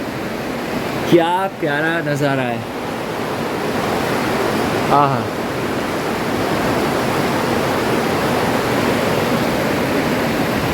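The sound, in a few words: flowing water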